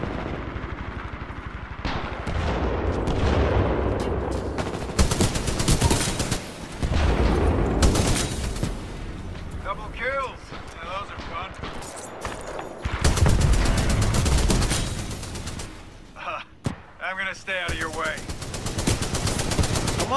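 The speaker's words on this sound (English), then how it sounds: "Welcome to Spitfire. That thing's honestly the best gun in the game." Automatic fire from the Spitfire in a shooter game, loud bursts of rapid gunfire repeating through most of the stretch with short gaps, mixed with game effects and some voice chatter.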